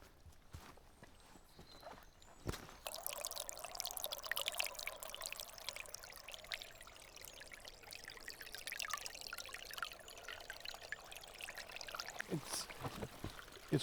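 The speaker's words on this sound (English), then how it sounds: "See all the water going down." Water runs down a slippery hiking trail in Norway, a steady rushing trickle heard up close alongside footsteps and occasional bumps, fairly faint and continuous.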